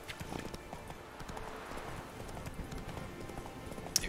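Roach, a horse in The Witcher 3, gallops with quick rhythmic hoofbeats thudding steadily and fairly close, quiet overall, with a faint whinny-like touch and sparse background game sounds.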